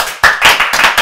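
A studio team claps in a short burst, a few sharp, close hand claps landing unevenly one after another.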